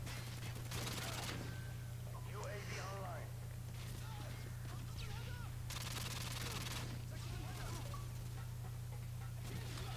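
Rapid bursts of gunfire from the video game Rust in team deathmatch, sharp repeated shots in clusters over a steady low hum, with someone talking throughout.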